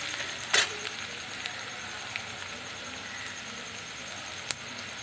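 Crushed garlic and slit green chillies fry in oil in a pan. A faint, steady hiss of sizzling runs throughout, with a couple of brief clinks of a utensil against the pan and no speech.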